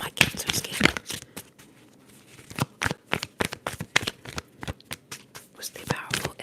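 Tarot cards being shuffled close up, rapid papery riffles and flicks in bursts with a short pause midway, under soft whispering.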